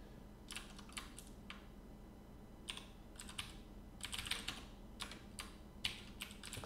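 Clicky keys on a computer keyboard pressed in short, irregular bursts of typing with brief pauses, close and fairly quiet over a low steady hum.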